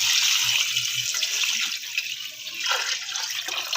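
Water is poured into a pressure cooker holding chicken pieces for a winter chicken soup. A close, steady splashing stream runs continuously for a few seconds with no talking.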